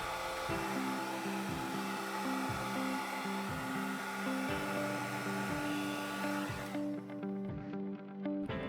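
A heat gun blows steadily to warm vinyl wrap film held on rods, a loud continuous whooshing airflow with a faint rhythmic pulsing underneath, cutting off near the end.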